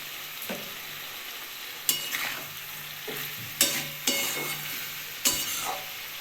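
Prawns, papaya and potato stir-fry with spices in a pan, a steady close sizzle broken by a series of sharp scraping stirs roughly every second, with no talking.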